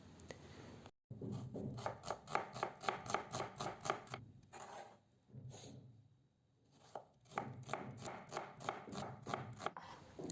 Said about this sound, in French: Je vais couper un oignon finement